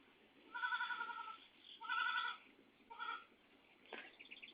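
Young goats bleating on a farm, three or four wavering, nasal cries in quick succession, moderately close and clear over a quiet background.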